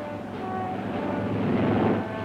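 Carrier-based warplanes sweeping in over Truck, heard as a continuous, broad roaring drone of aircraft engines mixed with wind rush, fairly steady and moderately loud.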